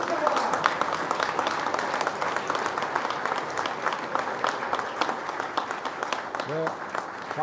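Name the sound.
audience applause as Michael Van der Mark comes on stage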